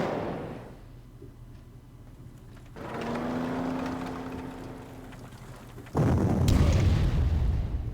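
Tactical bomber bombing a fort in the Panzer Corps strategy game, a rising engine drone followed by a sudden loud, rumbling explosion that sustains to the end, with no talk.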